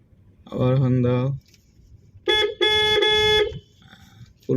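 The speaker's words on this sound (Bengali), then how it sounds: "আবার হর্ন দাও" A car horn honks on a real road during a beginner driving lesson: one honk just under a second long, a short pause, then a brief tap and a longer blast, with a driving instructor's voice nearby.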